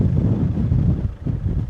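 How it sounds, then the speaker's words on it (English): Strong gusty wind buffeting a microphone outdoors, a loud low rumbling roar that swells and dips without pause. "It's very windy, so I'm really curious if the wind's gonna be picked up on this."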